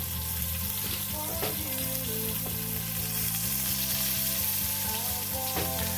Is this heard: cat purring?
no